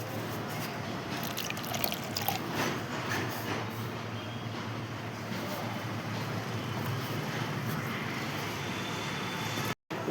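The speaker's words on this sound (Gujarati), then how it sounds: "હવે આમાં આપણે થોડુંક પાણી નાખીને આગલા સેટઅપની તૈયારી કરીએ" Water pours steadily into a container in a continuous, fairly loud rushing stream that stops abruptly near the end.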